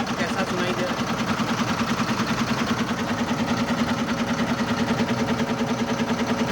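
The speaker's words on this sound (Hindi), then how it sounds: "तो इसका आइडल स्पीड सुनाते हैं कितना है, इसके इंजन का आवाज़ कैसा सुनाई दे रहा है।" An Ashok Leyland BS6 5525 truck engine idles close by with an even, rapid throbbing pulse that stays steady and moderately loud from start to finish.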